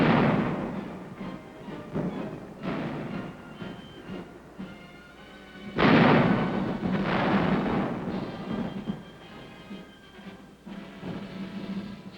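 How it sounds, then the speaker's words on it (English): Tanks keep up a heavy bombardment in the Korean War in 1951, heard as repeated booming blasts and rolling rumble with a strong burst midway, all in the thin, gritty tone of an old newsreel. "the tanks continue their heavy bombardment"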